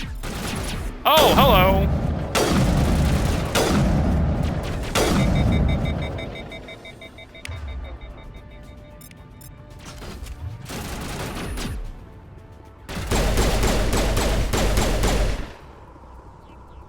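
Enemy gunfire in Mass Effect comes in several loud bursts of rapid shots separated by quieter gaps, with a player talking between and over the volleys.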